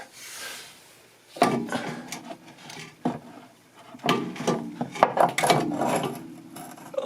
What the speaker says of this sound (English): Put the shock absorber in there.